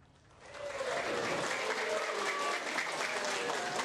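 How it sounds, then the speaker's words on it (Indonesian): Dense applause swells in after a quiet start and holds steady, mixed with scattered cheering voices from a crowd in a reverberant courtroom in Denpasar. "Tepukan hingga teriakan dukungan menggema di ruang persidangan untuk Inyoman Sukerna."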